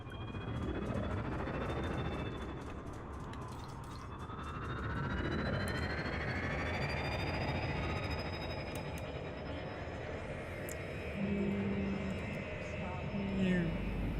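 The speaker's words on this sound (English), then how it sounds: "Ship released. Engines engaged." Spaceship engines in Elite Dangerous engage after launch, a steady roaring rumble with a rising whine that swells and holds for the whole stretch, loud and continuous, with talk heard over it.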